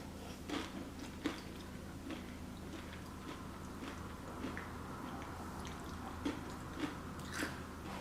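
Crunchy bites of Doritos chips at close range, with a series of crisp crackling bursts at irregular intervals over a steady low room hum, no voices.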